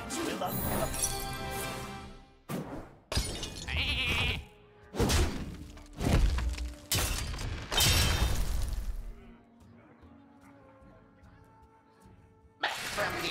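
Sheep bleating from a polymorph effect in the Hearthstone card game, a few short bursts with a brief high crackling shimmer, amid other loud game effects and a speaking voice.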